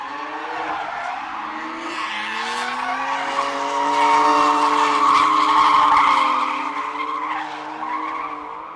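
Drift cars at a drifting event skid with long, loud tire squeals that swell to a peak midway and ease off, layered with engine noise, no talk.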